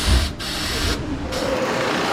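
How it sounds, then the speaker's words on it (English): Sewing machine double stitching a cycling jersey, a close, loud whirring hum that runs on and off with short pauses between bursts. "More double stitching going on."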